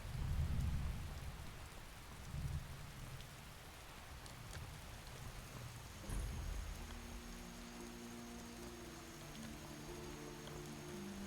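Steady rain and rumbling thunder in the Skyrim video game, with low thunder rolls at the start and around six seconds over a constant wash of rainfall, no voices.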